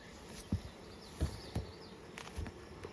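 Honeybees buzzing steadily around an open hive with scattered soft knocks and taps, a busy outdoor hum close by.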